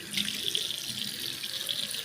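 Steady running tap water splashing into a sink during face washing, a continuous close hiss and patter with no talk.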